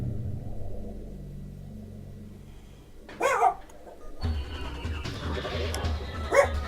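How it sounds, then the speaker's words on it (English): Agitated dog barks twice at close range, two sharp bursts a few seconds apart over quiet electronic game sounds and a low rumble. "Dog decided to get a bit agitated"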